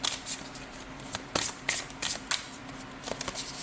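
Tarot cards being shuffled and drawn by hand, close up: a run of crisp riffling snaps and soft slaps in an irregular rhythm, fairly loud and with no talking over them.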